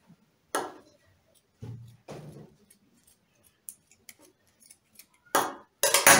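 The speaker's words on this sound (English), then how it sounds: "So now I can cut off my excess." Scissors snip through excess dress fabric during draping, giving a few sharp, close cuts spaced by quiet pauses, with a louder pair of snips at the end.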